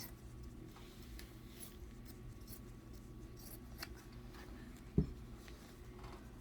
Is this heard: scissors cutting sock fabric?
yes